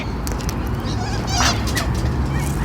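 A goose-like bird pecking at a folder lets out a short, nasal honk midway through, set against a loud, steady rumble of outdoor background noise.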